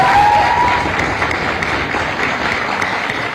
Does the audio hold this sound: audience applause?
yes